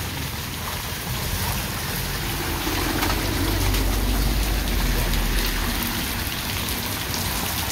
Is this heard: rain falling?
yes